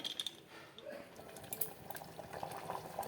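Mutton cooked in a pressure cooker bubbles faintly at a low simmer, with soft irregular pops and gurgles and a few light utensil clinks.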